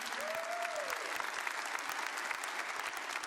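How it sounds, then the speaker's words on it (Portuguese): A church congregation bursts into sustained applause during a sermon, dense clapping from many hands at a steady loud level, with a brief tonal sweep near the start. "Dê uma salva de palmas para Jesus."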